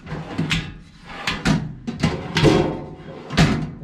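Drawers on a new, fairly heavy-duty locking tool box slide open and shut in a series of close, sharp knocks and rattles, about six separate bumps with short gaps between them.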